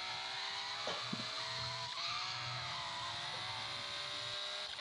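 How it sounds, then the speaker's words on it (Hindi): A Honda Civic 2020 facelift drifts in GTA San Andreas on Android, its engine droning steadily throughout with short tire-squeal bursts near the start, loud and continuous with no talk. "ड्रिफ्ट भी सही हो रही है गाड़ी"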